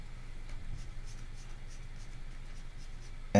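A pen scratches steadily across paper while black areas of a sketch are inked in, a faint, close scratching in short repeated strokes over quiet room hiss.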